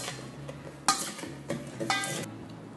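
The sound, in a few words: tossing Thai beef salad in a bowl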